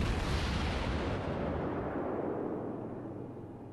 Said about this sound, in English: here comes a few shells from the Wyoming